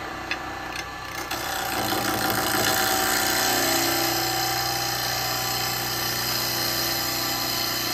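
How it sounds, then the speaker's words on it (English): Wood lathe spinning a workpiece while a negative rake carbide tool takes a cut, a loud steady motor hum with a rough scraping hiss that starts after a few faint knocks and continues evenly, no speech. "So now I'm going to take a cut with the negative rake."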